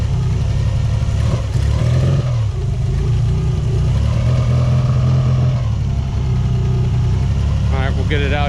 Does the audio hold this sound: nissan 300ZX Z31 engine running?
yes